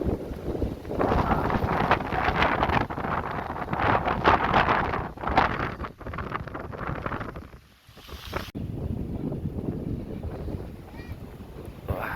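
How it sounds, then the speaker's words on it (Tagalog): Rough sea waves churning under strong wind buffeting the microphone at an outdoor coastal spot, a loud continuous roar with a brief dip near the end, with people talking over it. "Ang kulit ng alon dito."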